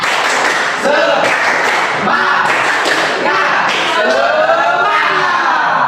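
A school class does a rhythmic spirit clap: loud patterned claps and thumps from many students, with young voices chanting along in time.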